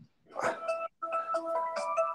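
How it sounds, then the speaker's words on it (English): Cell phone ringtone playing a short melodic pattern of tones in two bursts with a brief pause between them, moderately loud in a quiet room. "Sorry, it's my stupid cell phone."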